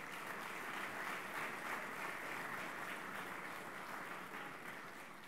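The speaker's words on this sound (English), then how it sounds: "Please give Calandria another round of applause." A large audience at a presidential campaign speech in Houston applauds in a continuous, distant wash of clapping that holds steady and fades slightly at the end.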